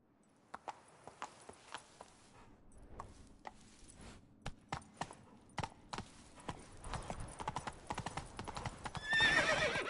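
Hooves of the horse Roach clip-clop in a quickening rhythm as it speeds up in The Witcher 3, crisp and close, ending with a louder burst and a whinny; no talking.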